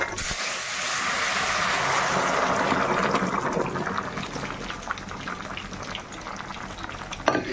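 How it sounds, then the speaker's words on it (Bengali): Spiced tempering of dried red chillies sizzles into moong-matar dal cooked with bottle gourd, a loud, steady frying hiss that carries on without break and with no talking. "এবার ডালটা এর মধ্যে ফোড়ন দিয়ে দিচ্ছি"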